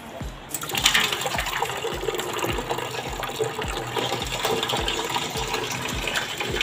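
Water from a household motor pump pours in steadily, a continuous gushing splash with a faint repeating mechanical thump underneath, fairly close and without talk.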